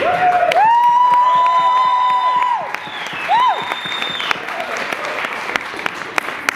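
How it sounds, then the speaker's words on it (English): An audience at a community meeting on the Metrolinx Davenport Diamond applauds, a broad wash of clapping under loud tonal sounds and a voice, fading into scattered claps toward the end. "So I take it by that applause, there's unanimous approval that you're going to hear from Options for Davenport"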